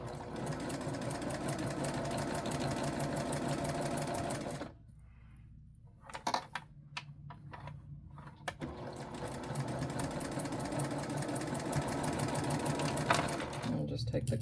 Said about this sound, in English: This one, I'll sew slow so it doesn't vibrate the phone, hopefully.